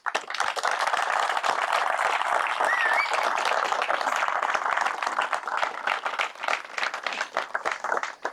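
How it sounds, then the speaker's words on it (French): A crowd at a roofing and carpentry first-beam ceremony applauds the building team, with dense, steady clapping from many hands that holds for several seconds at close range. "Et j'aimerais qu'on les applaudisse tous ensemble."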